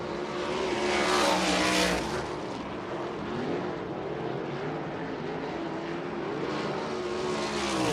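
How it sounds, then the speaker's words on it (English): A USAC race car runs on the track at Ocala Speedway, its engine a loud continuous roar that swells as it passes close by and then holds steady. "Big wheel stand down the front straightaway for Jaden Rogers"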